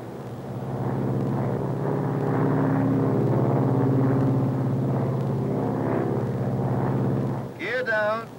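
An airliner in flight lowering its flaps and landing gear, a loud steady engine drone throughout, with a voice speaking briefly at the end.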